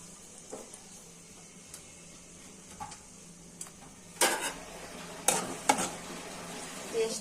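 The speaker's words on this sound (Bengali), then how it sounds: "তেলটা গরম হয়ে গেছে, পেঁয়াজ কুচিগুলো দিয়ে দিচ্ছি।" Chopped onions fry in hot oil in a wok: a soft, steady sizzle sits underneath while occasional spatula strokes scrape and clatter, growing louder and more frequent toward the end.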